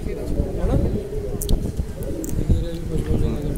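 Low, soft racing pigeon cooing under steady outdoor noise, with a few faint higher chirps scattered throughout.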